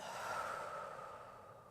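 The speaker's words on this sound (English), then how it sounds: "take a deep breath in through the nose and out through the mouth" A single slow, deep breath drawn in through the nose and released through the mouth during a gentle yoga warm-up. It is soft, airy and close, with no talking over it.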